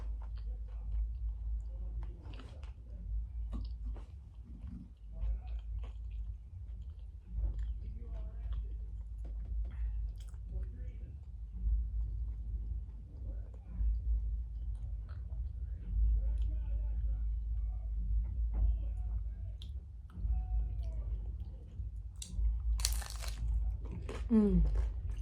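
Homemade Mexican-style chicken tostada is chewed with repeated crisp crunches in an uneven rhythm, close and fairly loud over a low steady hum, with brief murmurs from the eater.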